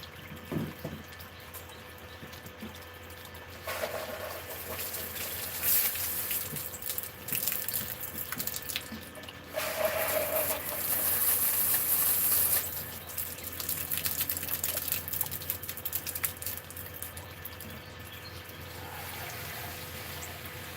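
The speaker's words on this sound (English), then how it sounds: "Rinse that out with a hose real quick." Water from a hose runs and splashes while rinsing out a moldy plastic wash bottle outdoors on a porch, a steady moderate gush that swells louder for a few seconds midway, with no speech.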